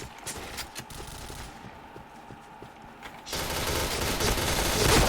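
Gunfire in the Point Blank first-person shooter game: bursts of rapid shots, then a quieter stretch of scattered mechanical clicks, then dense loud continuous firing.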